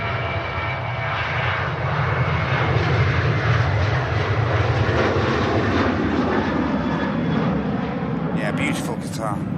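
A brand-new Qatar airliner lands on runway 23 right at Manchester Airport, its engines a steady, loud broadband roar throughout while people chat over it.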